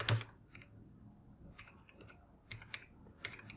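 Someone types on a computer keyboard, with scattered soft close key clicks in an irregular rhythm and no talk.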